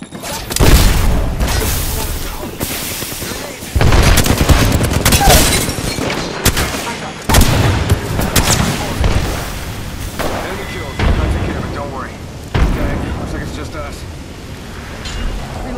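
Apex Legends gameplay with a frag grenade blast and repeated bursts of gunfire: loud booming shots and rattling volleys come in clusters throughout, with short quieter gaps between them.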